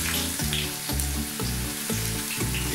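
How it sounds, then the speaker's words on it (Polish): Homemade potato chips fry in about a centimetre of hot oil in a ceramic pan, giving a steady, close sizzle with soft crackles and occasional louder pops throughout. "Rozgrzewamy, jak powiedziałem, i wykładamy nasze chipsy."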